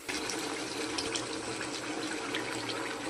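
A small amount of water is poured into a cooking pot of egg-omelette and taro-potato curry, giving a steady close splashing trickle throughout with no talking.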